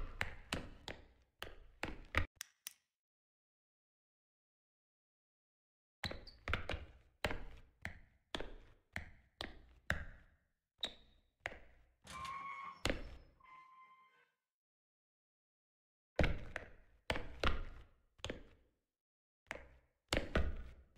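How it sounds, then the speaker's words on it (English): A game character in The Classrooms stomps his foot on the ground, giving sharp, repeated thuds in quick clusters separated by silent gaps, fairly close and alone. "guy's like slamming his foot on the ground"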